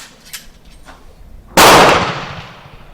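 A single loud rifle shot from an Italian reproduction Sharps 45/70, a sharp crack that rings out and decays over about a second, preceded by faint handling ticks.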